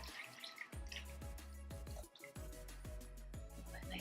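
Raw milk pours from a quart container into a pot, a wet, gurgling stream with dripping and splashing that runs steadily from near the start to the end, close and fairly quiet.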